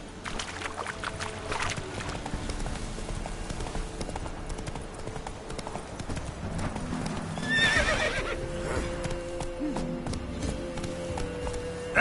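Roach, a horse in The Witcher 3 game, trots with steady clip-clopping hooves and gives a sharp, clear whinny midway, set against ambient game sound and background music.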